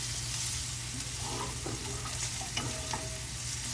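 Stuffed okra frying uncovered in a pan gives a steady, dense sizzle throughout, with faint stirring scrapes and small pops over the constant hiss.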